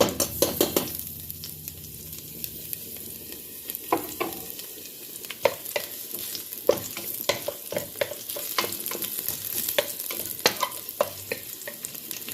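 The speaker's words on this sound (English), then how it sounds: "So guys, in this pot I'm gonna add some garlic." Garlic, tomato and other vegetables frying in a lightly oiled pot while being stirred, with a steady sizzle broken by frequent scraping stir strokes and clinks throughout, close and continuous with no talk.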